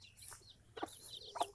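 Farm chickens cluck softly a few times, short scattered calls heard faintly at a distance against quiet background noise.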